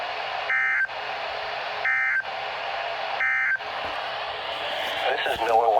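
NOAA Weather Radio emergency alert tones play as three short, loud, identical beeping bursts at an even pace over a broadcast voice, followed by more speech at the end.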